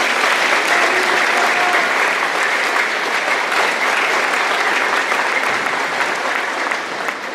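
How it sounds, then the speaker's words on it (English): A crowd at a school graduation applauding loudly and steadily, dense clapping sustained throughout before easing slightly at the end. "let's give her another round of applause"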